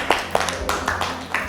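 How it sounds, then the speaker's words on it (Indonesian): A classroom of students claps in several quick bursts, sharp bright slaps landing in a loose rhythm close by over a low room murmur. "Oke, tepuk tangan untuk kalian semua"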